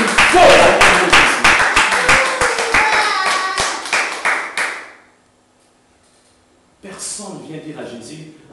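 An audience claps loudly and steadily at a worship gathering acclaiming Jesus, the applause dense and close for about five seconds before stopping abruptly; after a short silence, a voice and other sounds come in.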